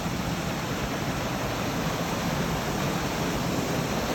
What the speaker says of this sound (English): We have reached the waterfall